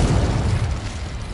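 Confringo blasting spell from Hogwarts Legacy bursting in a loud, rumbling explosion with a dense low boom that fades over about a second and a half.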